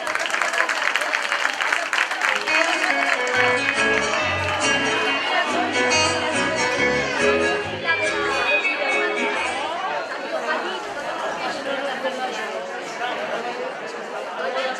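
Loud, sustained applause from an audience at a children's Christmas festival, dense clapping mixed with crowd chatter that continues for the whole stretch and thins slightly toward the end.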